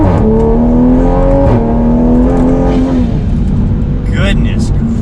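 A tuned Toyota A90 Supra making 450 wheel horsepower accelerates hard from inside the cabin, its engine note climbing through the gears with a brief shift break. A voice speaks over the last part.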